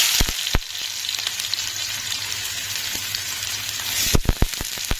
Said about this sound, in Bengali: তার কড়াইতে তেলটা আমার গরম হয়ে গেছে, এবার আমি এর মধ্যে দিয়ে দেবো পেঁয়াজ